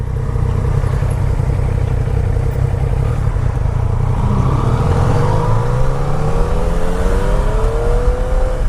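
A nearly new motorcycle on a wet road at about 110 miles an hour, engine roaring loud and steady with rising and falling revs and heavy wind rush, no voices.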